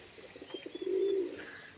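Pigeons in a dovecote, young and old birds together, giving a soft rhythmic series of coos that swells into one sustained, louder throaty coo, close to the microphone with no talk.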